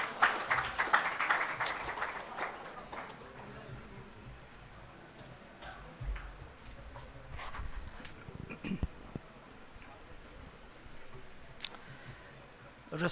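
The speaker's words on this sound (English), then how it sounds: "Let us all welcome the brother with a round of applause." An audience at a college HR week event applauding to welcome a speaker, clapping strongest at the start then thinning into scattered claps and murmuring.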